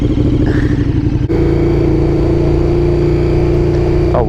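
A KTM 1290 Super Duke R twin-cylinder motorcycle engine idles loud and close with a deep, lumpy throb, then blips its revs briefly near the end.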